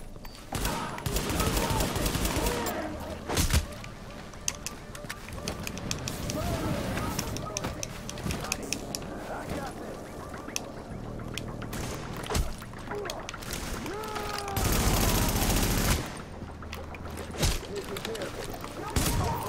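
Rapid video-game gunfire crackles in dense bursts over a busy mix of game effects, steady and fairly loud throughout, with a person talking intermittently over it.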